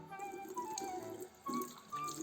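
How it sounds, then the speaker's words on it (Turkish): Hands rubbed with lemon and stained by walnuts are rinsed with soap under a running tap at a sink, giving a short stretch of steady flowing water with soft splashes and shifts as the hands move through the stream. "sabun ile duruluyorum. Elimi limon kalıntılarından da temizliyorum."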